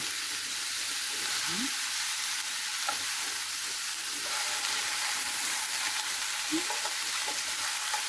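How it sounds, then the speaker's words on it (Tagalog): Hamour fish pieces sizzle in a hot pan, a dense, continuous hiss and crackle heard close up, with occasional faint clinks of utensils. "I-grill natin siya both sides."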